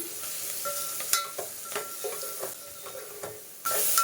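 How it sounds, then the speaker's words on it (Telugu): Chicken curry being stirred in a pan just after salt and turmeric go in, a spoon scraping in repeated short strokes over a steady low sizzle, close and fairly quiet, with a brief louder clatter at the end. "1/2 స్పూన్ పసుపు వేద్దాము. ఒకసారి కలుపుదాము."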